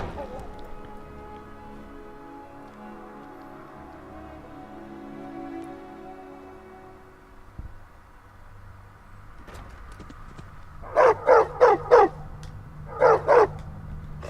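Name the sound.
dog barking in Skyrim video game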